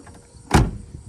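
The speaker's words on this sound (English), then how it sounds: "these doors shut like they're brand new" A single solid thump of a 1972 Imperial's car door shutting, short and close, with quiet background before and after.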